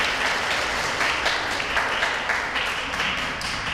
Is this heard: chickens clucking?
no